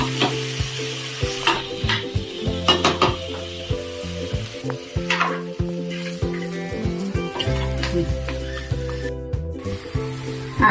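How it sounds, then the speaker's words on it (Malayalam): About 400 g of chicken goes into a tomato masala for a roasted-coconut chicken curry, sizzling loudly as a spatula stirs and scrapes the pan in repeated knocks, close up with no talking. "ഒരു 400 ഗ്രാം ചിക്കനാണ്. ഇട്ട് ഇളക്കാം."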